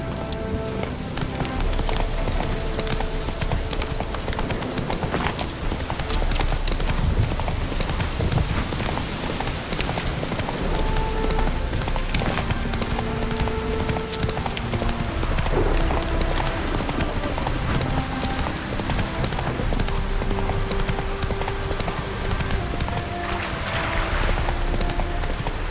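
A horse galloping in The Witcher 3 video game, its loud continuous rhythmic hoofbeats layered with game music and ambient noise throughout.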